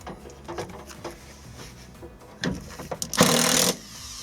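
A Shinko ACID-230 impact driver runs in forward rotation, giving a short, loud burst of whirring and hammering after a few quieter clicks and knocks.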